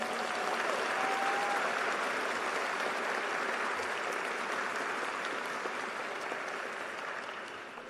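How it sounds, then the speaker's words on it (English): An audience at the 2021 Capital High School graduation ceremony applauds in a dense, continuous wash of clapping that holds steady, then slowly fades over several seconds. "Let's give Mr. Cornwell and his family a big round of applause."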